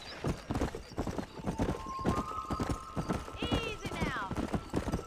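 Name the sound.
horse riding hooves in video game Red Dead Redemption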